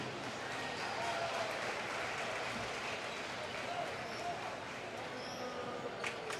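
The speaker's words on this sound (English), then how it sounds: "Let's give a round of applause for our Logan team." Crowd applause for a boys high school basketball team at a championship celebration in a gym, dense steady clapping at a moderate level with a voice speaking over it.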